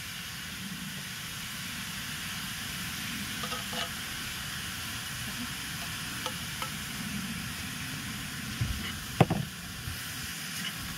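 An ube-flavored mixture being stirred and cooked down in a hot pan, with a soft continuous sizzle, occasional scraping strokes and a sharper clatter near the end, fairly quiet and without talk.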